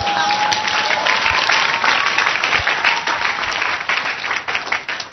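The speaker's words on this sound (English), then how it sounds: "Clap for me." A church congregation at a gospel evangelism service applauds, dense sustained clapping that stays loud and even throughout, with no speech over it.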